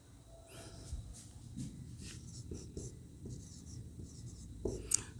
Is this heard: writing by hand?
yes